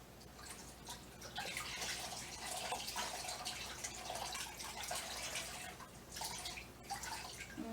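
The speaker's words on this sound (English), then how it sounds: "I'm only squeezing out a little bit of water so it doesn't drip across my kitchen." Water squeezed from a freshly dyed yarn skein in a home kitchen trickles and drips steadily into a pan, a close, continuous wet patter with no voices.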